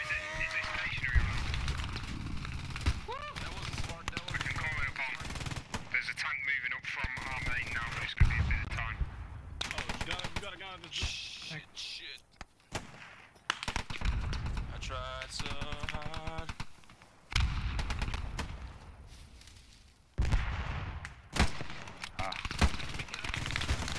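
Intense gunfire from an MG42 machine gun in the WWII shooter Post Scriptum, rapid bursts hammering close by amid other battlefield shots and explosions, with voices talking over the din.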